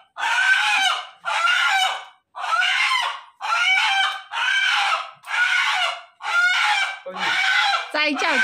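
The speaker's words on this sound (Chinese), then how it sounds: "罗爸进去抓鸡 了，拿公鸡。" A rooster squawks loudly and repeatedly while being caught, nine or so harsh, panicked calls in a steady run, close and alone.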